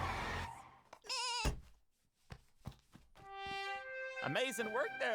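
Cartoon goats bleat in a couple of short wavering cries between thumps and other sound effects, with music-like tones and voices around them.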